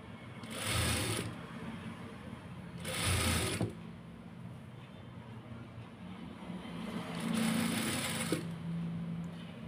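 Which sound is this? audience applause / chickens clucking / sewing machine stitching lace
sewing machine stitching lace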